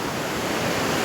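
Sea waves washing up on the sand at a Mangalore beach, a steady broadband wash of surf and wind, faint and continuous over a brief moment with no voices.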